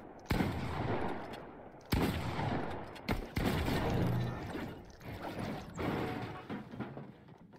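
Gunfire in Fortnite: four loud, sharp shots spaced about a second or more apart, each followed by crackling echo and game noise, with no speech.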